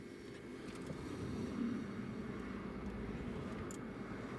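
Ryanair airliner taxiing at Newcastle Airport on a crosswind day: a steady, low jet-engine rumble, faint and distant, holds without a break.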